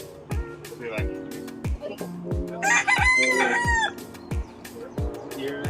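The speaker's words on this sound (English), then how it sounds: "That was the chicken." A rooster crows from nearby during a stop at a Hawaiian food stand, its rising, warbling call cutting in midway over steady talk and rhythmic thumping sounds.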